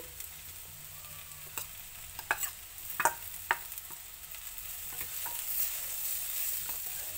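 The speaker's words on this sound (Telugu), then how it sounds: "చూడండి ఇంకొంచెం వేగాలి" Ivy gourd frying in a pan for a coconut fry, a soft steady sizzle with a few scattered stirring scrapes and taps, fairly quiet and close.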